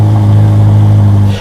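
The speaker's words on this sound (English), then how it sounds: "Then that 4-litre twin turbocharged engine will jump up into life" A Ferrari SF90's 4-litre twin-turbocharged engine runs loud and close with a deep, steady droning rumble, then eases off at the very end.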